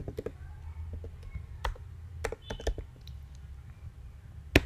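Typing a terminal command on a Mac keyboard in a quiet room: irregular, close, crisp key clicks and taps in quick bursts with brief pauses, ending on a sharper keystroke.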